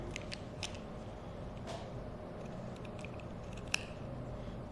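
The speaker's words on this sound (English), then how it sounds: "I'm going to clip into the V all the way to but not through the stitching" Scissors clipping into the V of a woven blouse's fabric seam allowance toward the stitching, a few small faint snips and a crisp click over a steady quiet background hiss.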